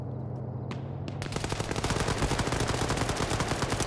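Dense, sustained automatic gunfire from a team video game firefight, starting with a few scattered shots and then building into a rapid, continuous rattle of bullets that stays loud and close to the end.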